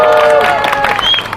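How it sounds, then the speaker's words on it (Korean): Crowd applause and cheering at an outdoor candlelight protest rally in Daejeon, a short burst of dense clapping mixed with voices that thins out toward the end. "다시 한번 큰 박수 부탁드리겠습니다"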